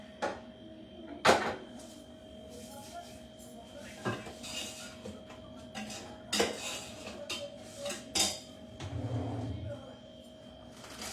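A cooking pot used for chicken biryani is scraped and handled with metal utensils: intermittent clanks, sharp knocks and grinding scrapes at close range, faint and spaced out, with occasional quiet talk.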